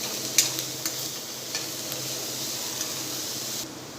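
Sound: ginger-chili-garlic paste frying on high gas flame

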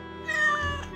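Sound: cat meowing in a cartoon

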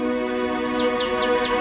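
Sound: Heron's mechanical singing bird automaton

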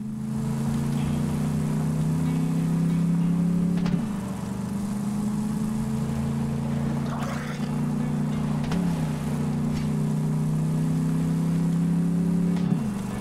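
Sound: vehicle engine driving in a video game

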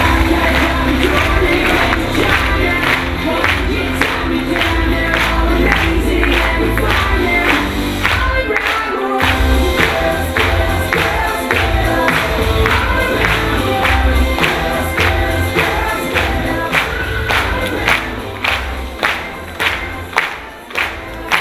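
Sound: audience applause welcoming the product developer

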